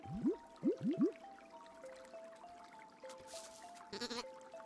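Several sheep bleat close by in a quick cluster of rising calls at the start, followed by a steady tonal background and a brief splash of noise near the end.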